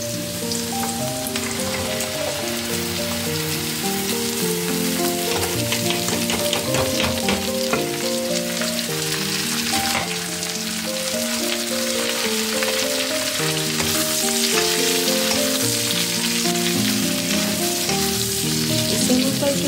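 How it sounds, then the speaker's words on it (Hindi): Chopped bottle gourd frying in a pan over cooked onion gives a steady, dense sizzle with crackling spits and faint stirring scrapes throughout, close and continuous with no voices. "अब हम डाल देंगे अपनी सब्जी कटी।"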